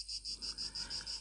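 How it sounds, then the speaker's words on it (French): Cicadas singing in a short burst of rapid, regular pulsing buzzes, fairly faint, with no other sound. "quand vous écoutez les cigales qui chantent"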